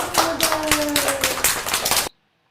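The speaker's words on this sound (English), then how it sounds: "we just have clapping at the end of the song" Hand clapping at the close of a Cherokee language song, a run of sharp, even claps close by, briefly overlapping a fading sung tone, then cutting off abruptly to silence.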